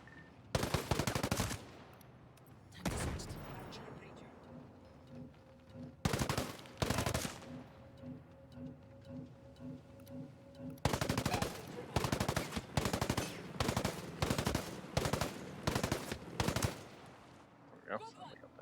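Automatic gunfire in the video game Ghost Recon: Breakpoint, loud rapid bursts of shots in several separate volleys with quieter gaps between them.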